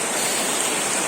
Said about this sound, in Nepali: यसरी जुत्ता चाहिँ हातमा उचालेर यसरी खोला तर्न लाग्यो